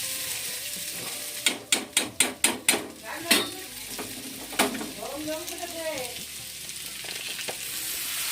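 Cooked dal poured into a hot pan of fried chilli, a run of six rapid metallic clanks from a spoon against the pot, then a steady sizzle under brief background talk.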